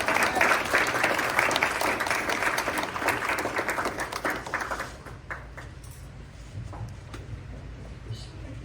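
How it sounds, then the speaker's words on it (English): Applause from a crowd at a civic event welcoming a Texas state representative, sustained and fairly loud at first, then dying away after about five seconds into quieter room noise with faint stray sounds. "please give a round of applause to State Rep Rafael Anchia."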